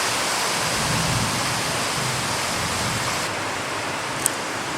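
Heavy rain pouring down steadily in a sudden downpour, a dense, even roar of water that holds constant throughout with no talk, ending with a brief faint click near the close.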